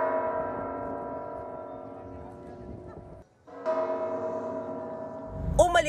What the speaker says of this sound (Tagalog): Umalingaw-ngaw sa makasaysayang Zocalo Square sa Mexico City ang tunog ng kampana mula sa Metropolitan Cathedral